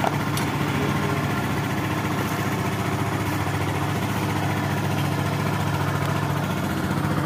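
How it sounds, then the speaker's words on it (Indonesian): A motorcycle engine idles steadily and loudly up close with one battery terminal bolt removed, a continuous even drone with no talk. "Ini mesin masih nyala ya."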